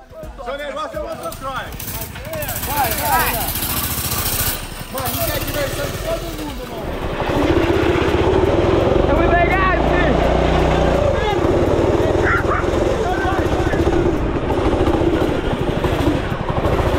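A trike's engine starts and settles into a loud, steady running drone beside a home swimming pool, rising in level partway through, while several people talk excitedly over it.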